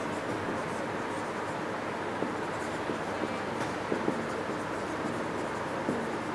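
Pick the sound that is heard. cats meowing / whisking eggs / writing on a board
writing on a board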